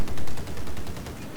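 Rapid cannon fire from a scout helicopter in Battlefield 4, a dense burst of sharp repeated shots carrying steadily through the clip, loud and close with no talking over it.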